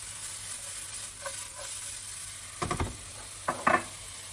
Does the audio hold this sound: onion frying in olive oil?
yes